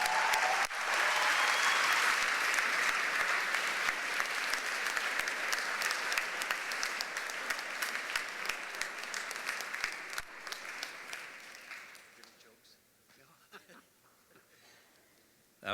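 A school audience breaks into a long, loud round of clapping that swells at once, holds steady, then thins out and fades toward the end.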